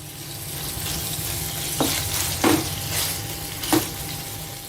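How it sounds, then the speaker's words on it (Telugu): Paneer pieces fry in melted ghee over a medium flame, a steady sizzle with a few brief louder bursts as the pieces are turned, no voices present. "ఈ నెయ్యి కరిగిన తర్వాత ఈ పన్నీర్ ముక్కలన్నిటిని వేసేసుకోవాలి"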